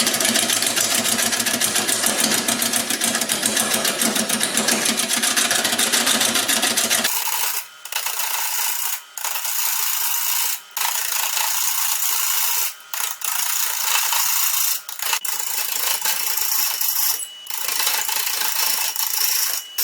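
Homemade bird feeder, out of balance, whirled by a mechanism: a loud, dense mechanical ratcheting and gear whir that cuts back after several seconds to a lighter clicking spin with brief regular gaps.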